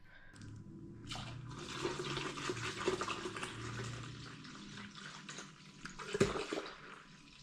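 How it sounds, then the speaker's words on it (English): Cranberry juice glugging from a roughly 96-ounce container into a 5-quart pitcher for mead, a steady rushing pour of liquid with a sharper splash near the end, close and fairly soft. "we'll glug in all the cranberry juice"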